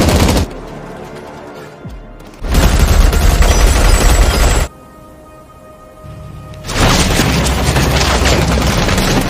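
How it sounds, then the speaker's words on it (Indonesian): In a film about North Korean soldiers escaping, troops open fire in heavy gunfire that comes in long, loud, dense bursts, broken by short quieter gaps before the shooting starts again. "Lee dan pasukannya telah datang dan menembaki mereka"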